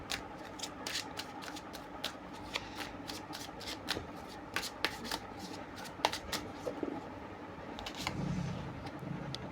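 Tarot cards being shuffled by hand, a steady run of quick riffling flicks and soft slaps close by, over a low background hum.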